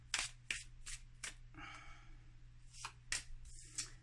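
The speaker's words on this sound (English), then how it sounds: "This one shuffles so nice." A new Rider Waite tarot deck being shuffled, giving a run of crisp riffling bursts, close and fairly quiet, with a steady low hum underneath and no talking.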